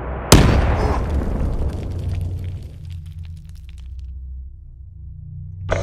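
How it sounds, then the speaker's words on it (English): A grenade detonates in Call of Duty: Black Ops III multiplayer with one loud, sharp blast, followed by a long rumbling decay that fades over several seconds into a low steady hum. A faint click comes at the end. "Grenade!"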